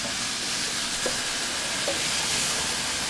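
Garlic, tomatillos and green onions with a pinch of salt sizzle steadily in a hot pan for chile verde, a continuous close hiss with no talking.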